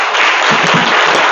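Audience applause at a formal gathering, a dense, loud, continuous burst of clapping from a crowd, heard up close with no voices over it.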